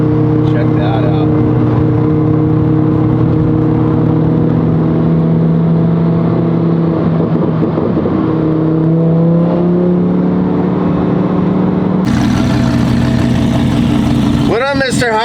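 A car engine idles with a steady low rumble, then swells into louder revving toward the end, while voices talk over it throughout.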